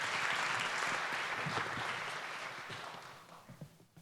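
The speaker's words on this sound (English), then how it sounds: "We'll give you a big warm applause as well." A room full of audience members applauds to welcome a panel and its moderator at a Nordic–Baltic security discussion, dense steady clapping that gradually thins and fades toward the end.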